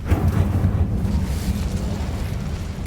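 In Hogwarts Legacy the Incendio fire spell goes off as a deep rumbling burst of flame, a heavy whooshing roar that swells at the start and trails off over a few seconds.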